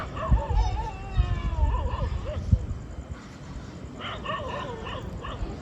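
A dog yips and whines repeatedly in high-pitched bursts, with a few dull thumps and some background noise between the calls.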